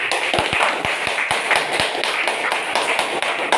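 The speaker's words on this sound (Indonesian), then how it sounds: "Baik, berikan tepuk tangan." An audience applauds in a classroom or meeting room, dense steady clapping sustained and fairly loud, with individual sharp claps standing out near the front.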